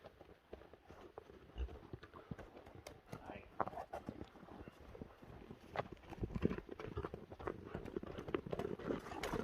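Faint hooves of a grey horse clip-clop irregularly at a rural horse gathering, mixed with scattered footsteps, breathing and low outdoor background noise, with talking voices nearby.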